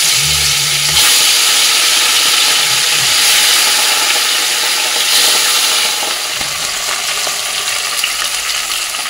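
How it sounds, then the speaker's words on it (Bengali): Rohu fish pieces frying in hot mustard oil make a steady, loud broadband hiss and sizzle that continues throughout, with no voices. "তেলের মধ্যে এক এক করে মাছগুলো ছেড়ে দেবো।"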